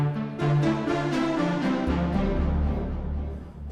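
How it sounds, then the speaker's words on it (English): A synth tone with a shimmering, doubled chorus effect plays several sustained notes, then a deep low drone enters and everything slowly fades out. "let's chorus it with a really cool chorus."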